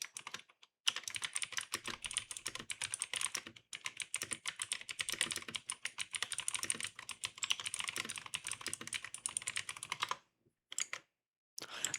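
Clicky computer keys clatter in fast irregular bursts of typing, close and crisp, with a few short pauses between runs and no voices.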